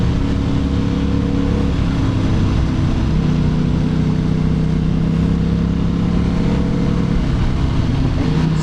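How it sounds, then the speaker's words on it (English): A loud motorcycle with a straight-pipe exhaust and no catalytic converter, roaring close by on a narrow road with a steady, throbbing drone and rising pitch as it revs, heard alone without talk. "that bike is really loud"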